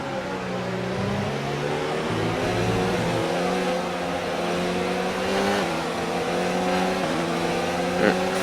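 A Formula 1 race car engine in a video game career mode held at a steady, smooth drone with slowly shifting pitch, gentle gear-like steps and no talk over it.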